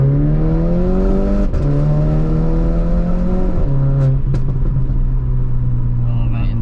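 A 250bhp VW Polo GTI pulls hard along a B-road, its engine droning steadily louder from inside the cabin, with brief dips at gear changes and a couple of sharp pops, while people talk over it.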